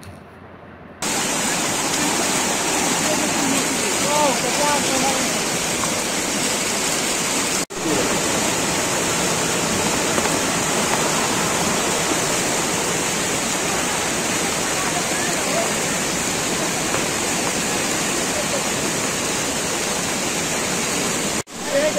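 Flash flood water rushes loudly and continuously after a cloudburst in Kulgam, Jammu and Kashmir, a dense, steady roar like a torrent that runs almost unbroken from start to end, with a brief dip partway through.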